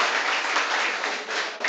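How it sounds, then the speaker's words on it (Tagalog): A church congregation claps together in a steady, dense burst, loud and close, with no talk over it. "Pumalakpak lahat ng naniniwala."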